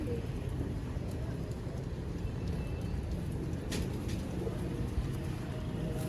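Champion blood-line pigeons coo softly amid a dense, continuous background rumble, with faint scattered bird calls.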